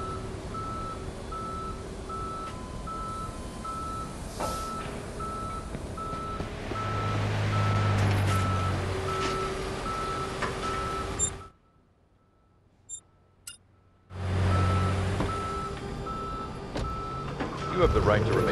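A tow truck in the video game Police Simulator: Patrol Officers gives steady repeating reversing beeps over engine rumble and ambient sound, with a brief silent gap partway through before the sound resumes.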